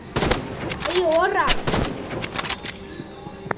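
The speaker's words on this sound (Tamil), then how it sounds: "டுப்பு டுப்பு அடிச்சுட்டு இருந்தேன். ஒரு புல்லட்." Gunfire from a Roblox shooting game, a rapid cluster of loud synthetic shots and bursts filling the clip, with a rising electronic tone partway through and no speech over it.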